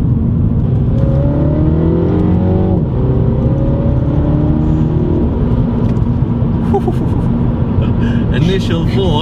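A manual MINI John Cooper Works in sport mode accelerates hard and loud through a gear change, its engine climbing in pitch before crackling exhaust pops, with a voice talking over it.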